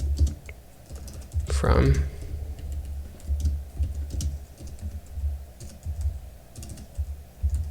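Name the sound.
typing code on a computer keyboard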